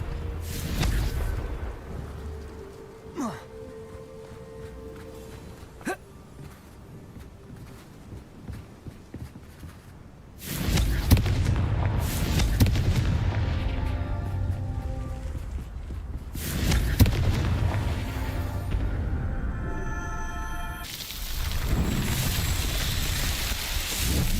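Fire-blast spell explosions in the Hogwarts Legacy video game: a few sharp bangs early on, then long rumbling booming bursts with crackling debris, loud and close, over steady game ambience with no speech.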